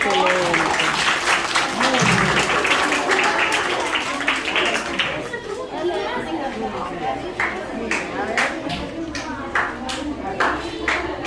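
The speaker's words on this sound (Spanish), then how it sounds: "Muy bien, aplausos." Students and audience at a school achievement day applaud, a loud burst of clapping that thins out midway into scattered claps and murmuring chatter, with voices talking underneath.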